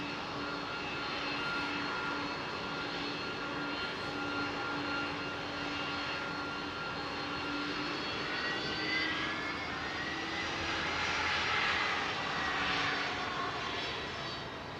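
A Singapore Airlines Airbus A380 jet takes off at London Heathrow, a steady, loud engine roar that swells and holds throughout with a droning low hum and no talk.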